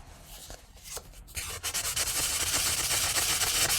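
Sandpaper rubbing along the steel rod of an alto saxophone, a close, dry rasping that starts softly, then settles into rapid, even back-and-forth strokes that grow louder and steadier.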